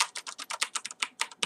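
Typing on a mechanical keyboard produces a quick, uneven run of crisp key clacks, close and moderately loud, with no talking.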